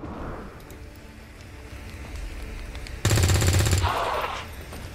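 Automatic gunfire rings out in XCOM 2 Long War 2, a loud, rapid burst lasting under a second after a stretch of quiet in-game ambience, followed by a fading tonal tail.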